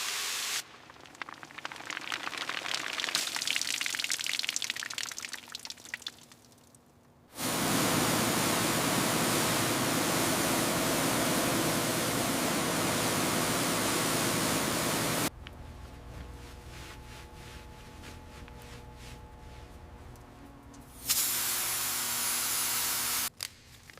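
Liquid spray soaks the grimy parts of an abandoned junkyard Mercedes S-Class, with long, loud, steady hissing bursts close by, broken by short pauses and a crackling, sputtering stretch between sprays.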